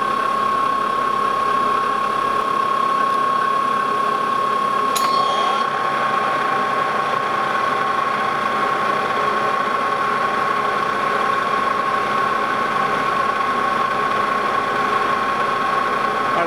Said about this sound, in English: I'll start out by taking a real light test cut and checking that with my thread gauge to make sure that we are truly on 8 threads per inch